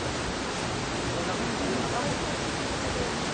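A waterfall at Wawa pours with a steady, dense rushing hiss that stays even and unbroken from start to finish.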